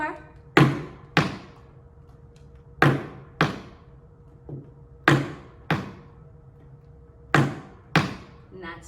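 Tap shoes strike a hard floor in slow paired flaps, each brush-and-land producing two crisp taps, repeating in an even unhurried rhythm with quiet gaps between, close and clear.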